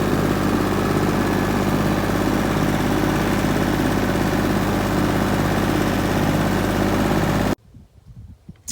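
A Dongfeng tractor pulling an SZ-1 seed drill drives along with its engine running, a loud and steady close-up drone with a constant low rumble. It cuts off abruptly near the end into quieter rustling.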